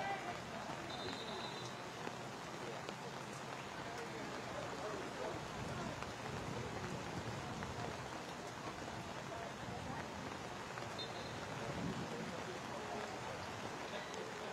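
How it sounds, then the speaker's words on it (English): Torrential rain pours down across an outdoor football pitch during a professional soccer match, a steady dense hiss filling the whole stretch without pause, with faint commentary voices buried underneath. "That is a torrential downpour."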